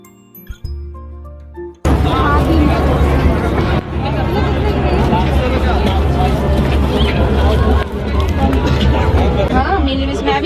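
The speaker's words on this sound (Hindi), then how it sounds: "ये देखो मेले में मतलब कितनी भीड़ हो रही है" Dense crowd at the Surajkund International Crafts Mela, a thick babble of many voices with clinks and footsteps, continuous and close after a brief quieter opening.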